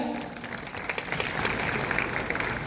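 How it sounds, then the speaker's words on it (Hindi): Audience clapping at a stock-trading talk, a broad wash of many hands at moderate distance, steady and fairly soft throughout without distinct individual claps standing out. "एक बार ताली बजाकर बताओ समझ आया"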